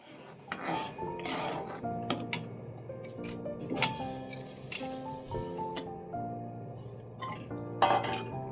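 Metal utensils clink and scrape against a pan in quick, uneven strokes, mixing peanuts and water for sesame ladoos, close by, with no talking.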